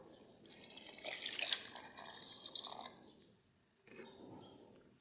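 Water poured into a PVA wall putty paint mix, a trickling pour that swells and tapers over a few seconds, a brief pause, then a second softer pour, close and fairly quiet.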